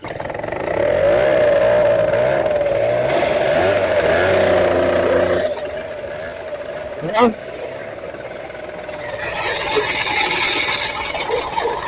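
A scooter engine running on oil buzzes loudly at a steady pitch, then drops off and fades as the rider pulls away, with a brief sharp sound partway through.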